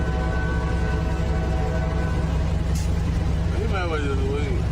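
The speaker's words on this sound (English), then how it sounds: "the unmistakable sound of an approaching train grows louder" Deep, steady rumble of an approaching train, loud and continuous throughout, with a faint horn-like wavering tone toward the end.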